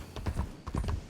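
Hooves of a newly acquired, not fully broken horse clip-clop in Red Dead Redemption 2, a short close run of several steps with a brief pause in the middle.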